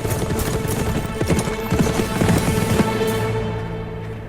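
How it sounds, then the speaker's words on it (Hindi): Horse hooves clip-clop in a steady, loud rhythm on hard ground, close by, with a low rumbling background and no talking. "अलाउद्दीन का घोड़ा, वही हमें वहां लेकर जाएगा"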